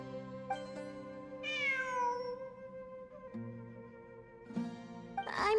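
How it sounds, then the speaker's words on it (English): Several meows from a cat in a video game, mid-length calls with rising and falling pitch, rising over a steady sustained musical backdrop, fairly clear and close, with a brighter burst near the end. "It really is a cat."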